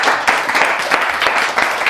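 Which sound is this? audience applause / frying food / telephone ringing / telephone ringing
audience applause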